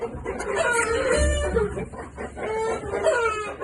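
A rooster crows loudly and close, its long drawn-out call rising and falling, with clucking fowl around it.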